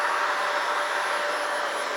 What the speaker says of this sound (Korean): 엄마 청소기 해야 돼.